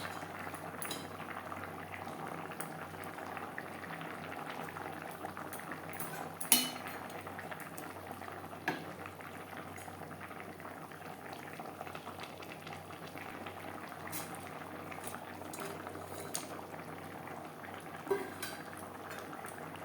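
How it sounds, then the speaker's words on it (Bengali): Potatoes simmering in gravy for a spicy tilapia fish curry, a faint, steady bubbling and sizzling in a pot, dotted with occasional light clinks of a utensil against the pan. "আলু সেদ্ধ হওয়া পর্যন্ত অপেক্ষা করব গ্রেভির সাথে"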